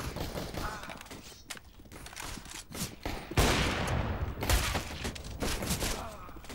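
Rapid AK rifle gunfire in CS:GO crackles in bursts, with mechanical clicks between volleys and faint voices underneath.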